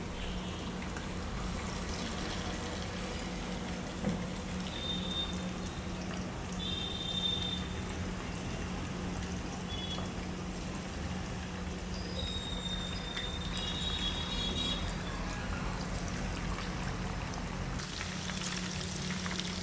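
Chicken pakoda pieces deep-fry in a pan of oil with a continuous soft bubbling sizzle. It stays even and fairly quiet throughout, with a faint background hum and no talking.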